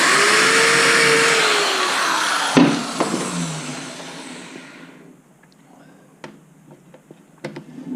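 A drill bores a pilot hole in wood with a loud whirring buzz that winds down about halfway through, followed by faint knocks and taps in near quiet.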